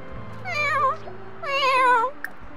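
A cat in The Sims 4 video game gives two drawn-out, wavering meows, loud and close, with a short pause between them.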